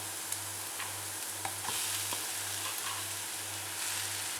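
Potatoes sizzle and fry in a pan while being stirred for a samosa filling, with a steady frying hiss, scattered scraping clicks from the stirring and a constant low hum underneath; nobody speaks.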